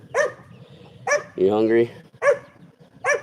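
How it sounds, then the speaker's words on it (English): A neighbor's dog barks outdoors in short, loud yaps, four clear barks spaced roughly evenly, with a person talking in between. "That's the neighbor's dog."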